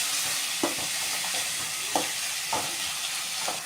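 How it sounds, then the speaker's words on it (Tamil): Tomatoes and onions sauté in a pan with a constant frying hiss, punctuated by a handful of soft stirring scrapes every second or so, close up and without speech. "தக்காளியை போட்டுட்டு தக்காளி வதங்கிறதுக்கு விடணும்"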